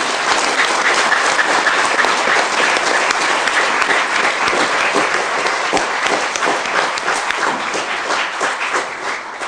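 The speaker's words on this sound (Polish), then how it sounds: "Dodajmy może oklaskami chłopakom troszeczkę otuchy." A hall audience gives sustained applause for young seminarians at a theatre event, dense continuous clapping from a crowd that holds steady and tapers slightly toward the end.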